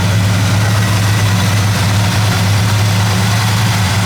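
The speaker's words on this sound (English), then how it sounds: "it is powered by what we believe to be its original 350 V8 4-barrel" A 1979 Camaro Z28 with a 350 V8 four-barrel engine idling, a steady, loud low rumble with a constant throb, close by and with no talk over it.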